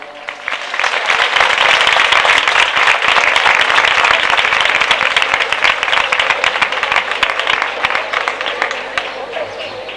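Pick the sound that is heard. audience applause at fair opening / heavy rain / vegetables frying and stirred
audience applause at fair opening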